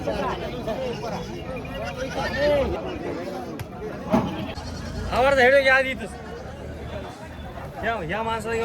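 Goats bleat repeatedly, several animals calling near and far, amid a busy crowd murmur at a goat market in Jawala, Aundha Nagnath taluka, Hingoli district.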